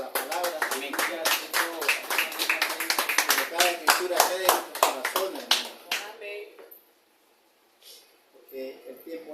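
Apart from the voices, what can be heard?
applause, congregation clapping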